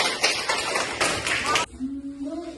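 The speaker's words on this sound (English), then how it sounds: "Clap your hands." Children clapping their hands in a classroom during an English food-vocabulary lesson, a short burst of overlapping claps lasting about a second and a half before stopping, followed by a quiet tone.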